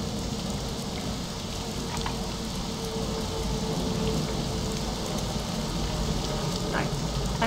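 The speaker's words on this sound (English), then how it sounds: "it's raining." Rain falling in the video game Morrowind, a steady, even hiss of drops with faint scattered ticks, constant throughout at moderate loudness.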